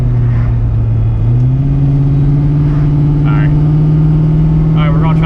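A car with a TH400 automatic transmission and no overdrive drones loudly at highway speed around 55 to 60 mph and 2,700 RPM. The engine pitch steps up early and then holds a steady accelerating hum, with faint voice traces underneath.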